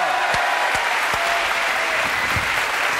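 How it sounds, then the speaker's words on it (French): A studio audience applauds on a French television variety show, giving steady, even clapping throughout, with a few sharper claps standing out and a faint tone underneath. "Applaudissements pour Sophie, mesdames, messieurs"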